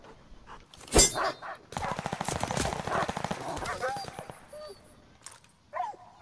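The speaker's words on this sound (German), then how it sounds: "Feindliche Hunde in der Zone." Enemy dogs bark in quick bursts amid rapid MP40 gunfire in a busy Call of Duty: Vanguard multiplayer soundscape, with some speech mixed in.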